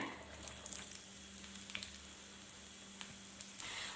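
Sliced onions fry in hot oil with cloves for kurma, a faint, soft sizzle with light crackles and occasional small ticks.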